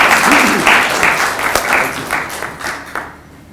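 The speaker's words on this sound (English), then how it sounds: "Let's give him a round of applause" Audience applause for a mental health and wellness talk, steady clapping from a crowd that fades out over the last half second.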